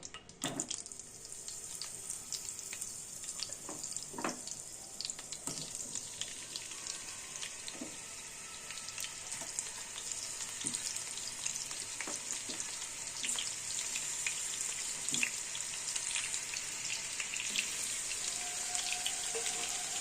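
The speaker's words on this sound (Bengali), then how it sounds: "নিয়ে এই আলুগুলো সব আমি একটু করে ভেজে নেব" Potatoes fry in oil in a wok for aloo dum, giving a soft, steady, broadband sizzle with scattered small crackles, faint and continuous for the whole stretch with no talk.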